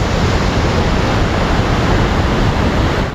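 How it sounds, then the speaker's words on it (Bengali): The Kali river rushes hard along a mountain road on the Adi Kailash route, a dense, loud, unbroken roar of churning water filling everything, close and constant without any talk. "এই ধরনের কালী নদীর স্রোত"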